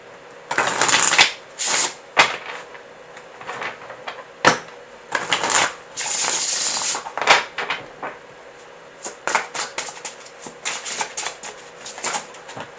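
A deck of tarot cards is shuffled by hand in bursts of crisp riffling and flicking, with short pauses between rounds, close and clear with no talking.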